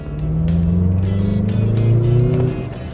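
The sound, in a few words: Mazda CX-50 SUV engine note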